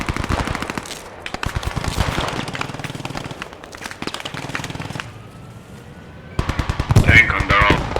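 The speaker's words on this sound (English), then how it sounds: "I'm gonna shoot him in the side if I can" Rapid bursts of automatic rifle and machine gun fire in the World War II shooter Post Scriptum, sharp repeated cracks with short pauses, a voice speaking amid the shooting.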